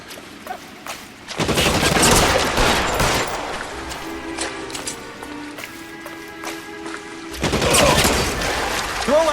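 Gunfire from a shootout in the game L.A. Noire, with bursts of rapid shots and clattering volleys, loud and close, easing between the two heavy flurries.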